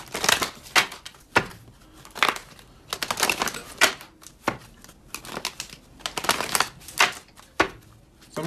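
A tarot deck is shuffled by hand, close up, with repeated crisp riffling and slapping bursts in an uneven rhythm and short pauses between them.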